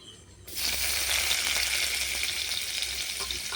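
A whole dried red chilli frying in oil in a kadai sets off a bright, dense sizzle that starts abruptly after a short quiet moment, then crackles on steadily at close range with no voices.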